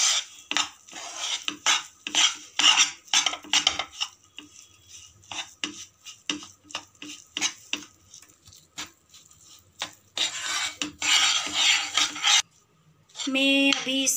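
Makhana mixture being stirred in a hot pan with the gas switched off: repeated scraping and clinking of a spoon against the pan in irregular strokes, close and fairly loud, with no talk.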